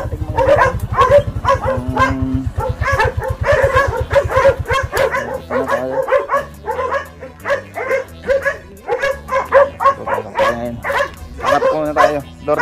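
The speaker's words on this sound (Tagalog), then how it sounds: "Narinig nyo na, tumataol yung mga aso natin." Hungry dogs howl and bark in a steady chorus, close and loud, with a low rhythmic pulsing in the opening seconds and a person talking over them.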